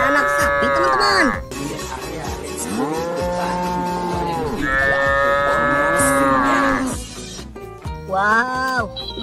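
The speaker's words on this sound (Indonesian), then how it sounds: "Di sini juga ada anak sapi teman-teman." A calf and cattle moo loudly and close by, several long drawn-out calls following one after another, with livestock being loaded onto an animal transport truck.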